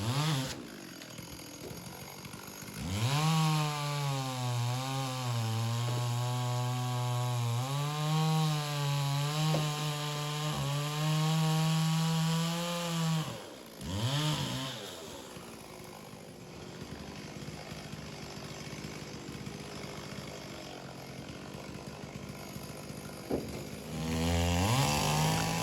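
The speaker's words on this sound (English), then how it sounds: "one of the saws, the smaller saw, has gotten stuck" A chainsaw cuts through a felled tree for firewood, its motor loud and near, revving up and down in long bursts with a brief lull between cuts before the engine picks up again.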